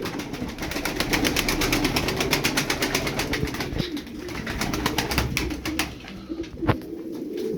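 Game pigeons kept in a loft coo and rustle close by, with a steady rapid mechanical whirring running underneath.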